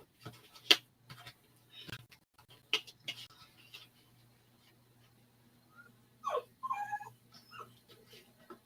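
A pet dog whimpers and cries in high, wavering whines that come in short bursts, mostly near the end, over a low steady hum in an otherwise quiet room.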